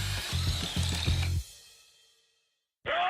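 A power drill runs in quick repeated bursts for about a second and a half, close and moderately loud, then falls silent before a sharp high whine starts abruptly near the end.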